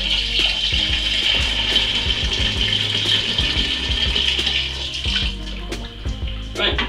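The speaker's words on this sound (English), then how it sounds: "add in a little bit of warm water to clear out the jam in the jar" Warm water running from a tap into a jar of blackcurrant jam for homemade fruit wine, a close, steady gushing pour with light rattling and bubbling throughout.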